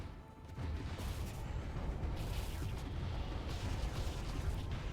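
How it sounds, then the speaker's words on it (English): Torpedoes strike a space station in Stellaris and set off a dense, continuous rumble of muffled blasts and crunching impacts. It stays at a steady, moderate level with no speech. "Goddamn, torpedoes are amazing."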